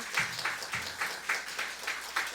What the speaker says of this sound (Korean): 우리 박수 치죠